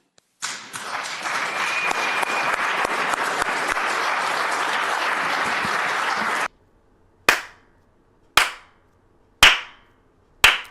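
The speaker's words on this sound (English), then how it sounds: "slow clap for Slick Nick" A crowd bursts into sustained applause, dense clapping that holds steady for about six seconds and then stops, followed by four slow, loud, widely spaced single claps.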